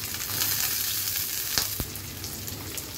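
Chopped onion and green chili frying in hot oil for chicken noodles, a loud continuous close sizzle with a few stirring clanks and scrapes partway through.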